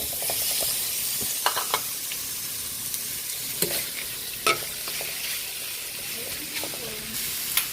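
Onion and ox tripe frying in a pot for a beef pochero, a steady close sizzle and hiss with occasional stirring clinks and scrapes throughout.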